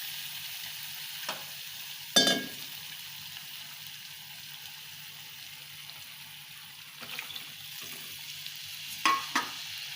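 Cooked bottle gourd frying in a pan with onion-garlic spice mix, a low steady sizzle broken by a few brief scraping stirs of a spoon, close and fairly quiet, no talking.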